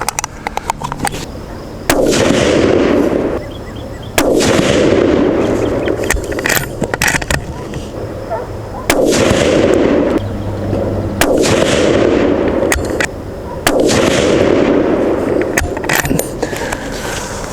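Rifle shots from a TC Compass loaded with Sierra Match King bullets crack out outdoors, about five loud, sharp reports spaced several seconds apart, each followed by a rolling echo, with faint handling noises between them.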